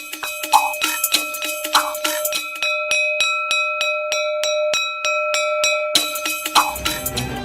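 An electric school bell in Nepal rings in a fast, steady rattle for several seconds, framed by short bursts of other sound before and after.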